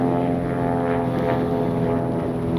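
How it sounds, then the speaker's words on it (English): A distant fixed-wing airplane flies high overhead, a steady, droning engine hum that stays even and continuous throughout with no talking. "There's a plane going over, but he's way high"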